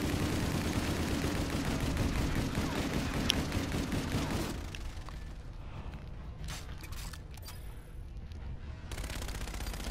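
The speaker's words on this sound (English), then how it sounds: "some dude's actually shooting at me" Gunfire in a Call of Duty custom game: a dense rattle of rapid shots through the first half, dropping to scattered sharp cracks, clicks and mechanical creaks with low rumbling beneath.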